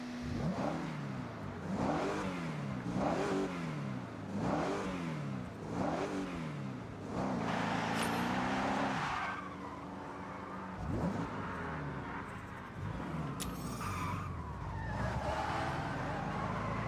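V8 American police interceptor with a 4-speed automatic, driven in Forza Horizon on Japanese streets, its engine revs up repeatedly through rising gear pulls, loud and close, with tire skids and a brief whine near the end.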